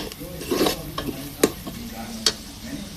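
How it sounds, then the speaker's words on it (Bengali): Onions fry in oil with turmeric and chili powder, making a soft sizzle broken by several sharp clinks and scrapes of a spoon stirring against the pan, close by and without speech. "তেলে একটু ভেজে নিলাম।"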